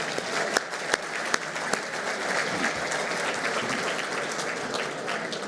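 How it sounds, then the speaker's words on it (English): Audience applause at the 2017 Wisconsin Business Hall of Fame induction ceremony, a sustained, even wash of clapping in a hall with a few sharp nearby claps standing out early. "Let's have another round of applause for our students from Regan International Business School"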